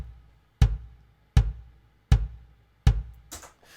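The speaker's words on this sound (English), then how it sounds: "I've gone to a drum track and turned off all the drums apart from the kick drum" Boss RC-500 looper rhythm track reduced to kick drum alone, four evenly spaced deep thumps at a steady four-to-the-floor pulse, each decaying quickly, with a brief higher rattle after the last beat.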